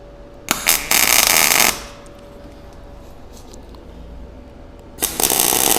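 Arc welding on a steel skate rail: a short crackling burst, a sharp click, a longer steady hissing buzz, then quiet before a second burst starts, close and loud with no talking.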